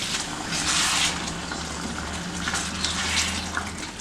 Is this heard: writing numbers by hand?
no